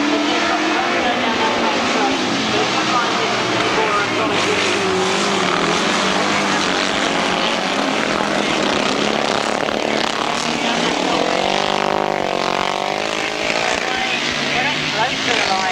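Left-hand sidecar outfits race the final lap of a grasstrack meeting, engines howling loud and continuous with rising and falling revs as they pass, under a commentator's running talk.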